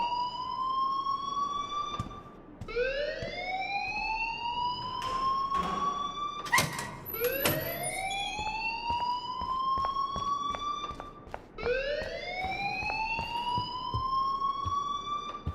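A rising, wailing siren-like alarm cycles repeatedly in the video game Life is Strange, each sweep climbing in pitch before restarting, loud and continuous with faint thumps underneath.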